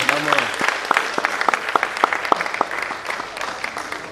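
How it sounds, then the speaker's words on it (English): Audience at a medical college scientific conference plenary session applauds, a burst of scattered, distinct hand claps at moderate loudness that thins out toward the end, with a voice briefly audible at the start. "Please let's give a round of applause."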